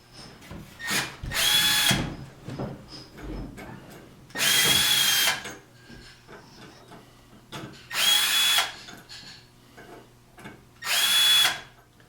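Power drill driving four screws into a docking unit in four short, loud whirring bursts separated by pauses with faint handling clicks.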